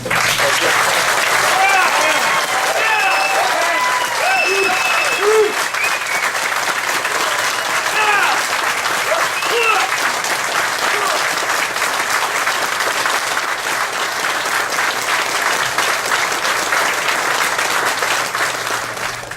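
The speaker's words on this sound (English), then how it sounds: "Let's give you a round of applause." At a political campaign breakfast, the audience gives standing active duty military members a long, loud round of applause. The steady clapping goes on for about twenty seconds with crowd voices mixed in, then thins slightly toward the end.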